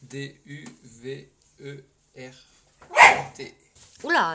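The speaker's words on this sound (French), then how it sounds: "ça c'est mon chien qui se bat avec mon chat." A pet dog fighting with a cat gives a couple of short, sharp bark bursts and a yelp near the end, mixed in among a person talking.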